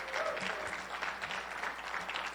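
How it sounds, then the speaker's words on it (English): Live comedy-show audience clapping in a steady, dense wash of applause, fairly close and continuous throughout, with no one talking over it. "can we get a little round of applause for everybody you've seen and the organizers of"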